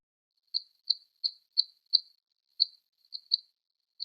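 Isolated high squeak band from a squeaky bass drum pedal, heard as a series of about nine short, thin chirping squeaks in an irregular rhythm, sounding much like a cricket, with nothing else around it.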